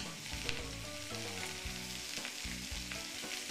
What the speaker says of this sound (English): Listen to that sear.